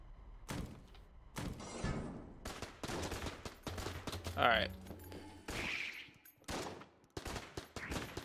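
Rocket bullets in Enter the Gungeon fire as a rapid string of sharp, punchy shots and thuds in irregular bursts, fairly close and mixed with other game effects.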